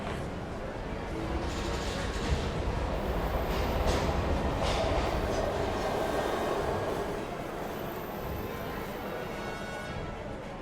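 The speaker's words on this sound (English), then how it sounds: "We've got to get on that train, Ethan." A train rumbles past in the video game Heavy Rain, a dense continuous roar of wheels and carriages, loud and steady throughout, with voices faintly mixed under it.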